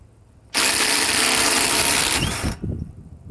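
A powerful impact driver runs on a torque tester in one loud, continuous hammering burst of about two seconds, then stops abruptly with a short mechanical clatter.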